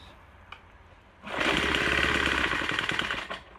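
A Troy-Bilt gas leaf blower catches on the first pull after priming with full choke, bursting into a loud, steady buzzing engine roar that holds for a couple of seconds before easing slightly.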